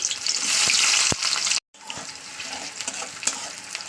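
Chopped onion goes into hot mustard oil with a loud, bright sizzle that cuts out for a moment, then resumes as a crackling fry under light stirring taps.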